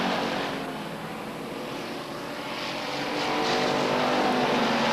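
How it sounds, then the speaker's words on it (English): Stock cars work the final laps of a weekly race at Beech Ridge Motor Speedway, engines roaring in a continuous loud drone that swells as cars pass close by. "Cars working the final 2 laps."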